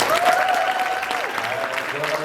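Crowd applause fills the room at an improv Dungeons & Dragons show at Fan Expo Chicago 2022, steady clapping with a voice and a wavering tone sounding over it.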